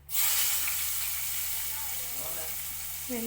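Garlic fries in hot oil for a Sri Lankan-style dried fish curry, giving a loud, steady sizzle with a sharp hissing onset. It runs continuously, with a faint voice near the end.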